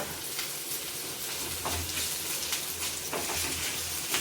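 Ginger garlic paste and raw onions fry in a pan for a soya gravy, giving a steady, close, hissing sizzle with faint crackles throughout and no talking.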